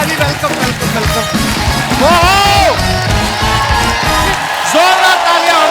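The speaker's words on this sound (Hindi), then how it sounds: "जोरदार तालियां हो गए, वाह।" A Kapil Sharma Show studio audience cheers and claps loudly and continuously, with whoops and shouts throughout and voices calling over the crowd.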